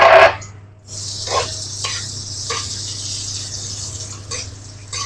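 Cashews and raisins frying in hot ghee in a kadai for carrot halwa, a steady bright sizzle after an opening clatter, with brief bursts of louder crackle as the pieces are stirred, close and continuous with no talking.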